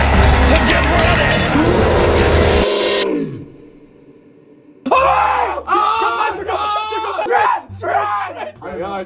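Loud yelling and screaming from players of the horror game Nun Massacre, raw shouts at first, then a brief quiet gap before more excited voices break in with agitated shouting.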